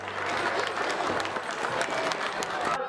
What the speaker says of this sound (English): Here's a good round of applause there.